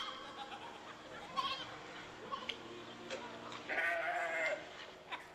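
During a Hindu religious katha storytelling session, a man imitates a goat's bleating with a few wavering, nasal calls, near and moderately loud, accompanied by light laughter from listeners.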